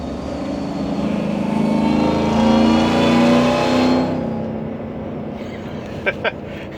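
A 2020 Ford F-150 Lariat pickup truck engine roars loudly as it accelerates, rising and holding a strong drone for several seconds before easing off, followed by a couple of brief knocks.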